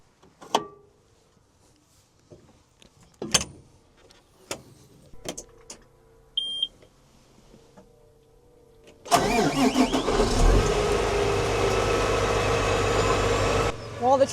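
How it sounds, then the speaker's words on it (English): A tractor engine cranks and catches after several scattered knocks and clicks, then settles into a loud, steady idle as it warms up, briefly dipping near the end. "While the tractor is warming up,"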